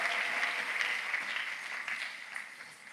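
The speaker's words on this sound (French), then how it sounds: "Tes acclamations sont faibles et acclame la parole du Seigneur" A church congregation at a Sunday service applauds in acclamation, a broad continuous roar of clapping and cheering, fairly loud and unbroken, slowly tapering toward the end.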